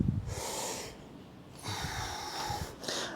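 Heavy breathing during a cool-down stretch, with three slow, loud, close breaths, each a drawn-out airy rush separated by short pauses.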